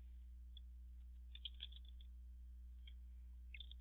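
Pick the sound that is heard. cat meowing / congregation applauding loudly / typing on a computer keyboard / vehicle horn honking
typing on a computer keyboard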